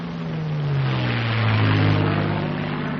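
A North American P-51 Mustang fighter plane diving, its propeller engine droning loud and steady, the pitch sliding slowly downward as the roar swells and then holds, with no voices.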